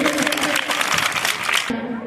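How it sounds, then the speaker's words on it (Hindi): Audience at a function giving loud applause, a dense burst of many hands clapping that cuts off abruptly near the end, followed by a brief tonal sound. "जोरदार तालियां होनी चाहिए"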